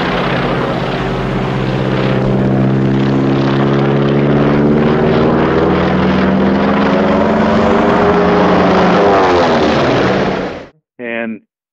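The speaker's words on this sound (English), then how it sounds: "Normally, that airplane has a wooden prop." A propeller-driven Stinson L-5 light airplane drones loudly and steadily for about ten seconds, its engine pitch sliding slowly up and down as it passes, then cuts off abruptly before a brief final burst.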